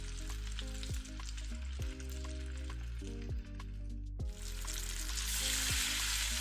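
Cinnamon, cloves, cardamom and bay leaf sauté in hot ghee for prawn donne biryani, giving a steady hiss and crackle that runs under a prominent, rhythmic tonal music bed.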